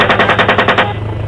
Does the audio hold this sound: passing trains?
no